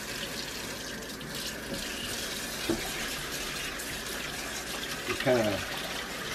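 Rice is washed with water in a measuring cup, a soft running trickle and splashing of water at a kitchen sink with a few brief clinks, while someone speaks briefly.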